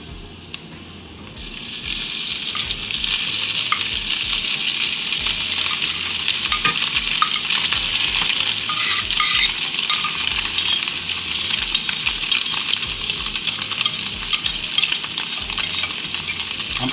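Salmon frying in grease with browned onions for stewed salmon, a loud, steady, dense sizzle that swells after a quieter first second and holds throughout, with occasional faint utensil clicks.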